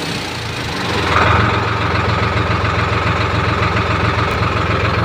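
A Solis 4215 tractor's diesel engine idles steadily and loudly up close, its low rhythmic chugging rising slightly in level after the first second.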